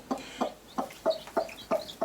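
A mother hen with newly hatched chicks under her wings gives a run of soft, close clucks, about seven evenly spaced pulses with faint high peeps between them.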